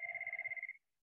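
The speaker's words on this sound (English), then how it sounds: "my phone's ringing" A phone rings with a fast electronic warble, one short burst of rapid pulses that stops abruptly after under a second, fairly quiet and alone.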